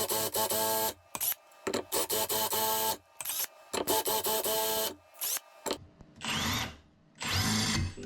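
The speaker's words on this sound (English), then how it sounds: "I apply a steady pressure as I begin drilling the hole" A power drill whines loudly in repeated bursts as its 4mm bit grinds through porcelain tile, cooled with water, stopping and restarting several times with brief pauses.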